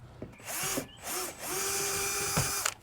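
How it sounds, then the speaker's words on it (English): A power drill boring pilot holes buzzes close up in a few short bursts, then runs in one longer steady pull, revving as it bites; no voices. "I'm gonna pilot hole them first"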